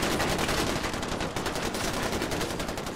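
Enemy gunfire in Far Cry 4, a rapid continuous machine-gun burst of dense repeated cracks, loud and close, sustained for several seconds.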